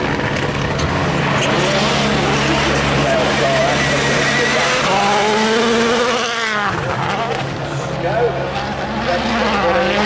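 A Citroen rally car at the Wales Rally GB Rally of Legends stage, its engine roaring and revving through a hairpin and over a ridge, loud and continuous, with a commentator talking over it.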